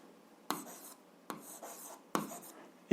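Pen writing on paper while working an algebra exercise, three short scratchy strokes spaced about a second apart, close and quiet, in an otherwise silent room.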